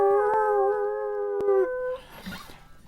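An old hound howls in one long, clear, sustained note that ends after about two seconds, followed by faint scuffling.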